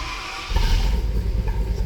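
A heat-soaked car with a new $6500 engine fires up after a quiet start: a brief crank, then the engine catches about halfway through and settles into a rough, loud idle through the mufflers.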